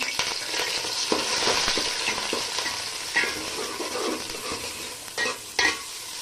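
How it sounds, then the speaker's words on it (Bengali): Onion frying in heated oil with two bay leaves, a dense, close sizzle under frequent scraping stirs that ends with a couple of sharper knocks of the spoon against the pan, with no speech. "পেঁয়াজটা হালকা একটু ভাজা হলে মশলা অ্যাড করবো।"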